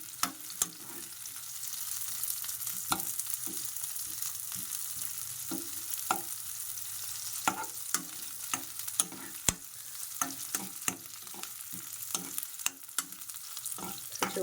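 Onions frying lightly in a pan for Bombay chutney, a steady soft sizzle running throughout with frequent sharp clicks and scrapes of a spoon stirring against the pan.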